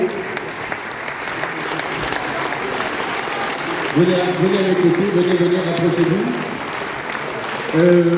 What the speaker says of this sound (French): tous les intervenants peuvent venir on va les applaudir à nouveau